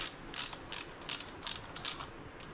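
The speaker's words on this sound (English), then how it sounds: "I'm just going to snug them up before I torque them, because I like taking out all the extra play in them" A ratchet snugging up the cam chest bolts on a 2018 Harley-Davidson Street Glide, giving about seven short bursts of crisp clicking at an uneven rhythm, close and alone.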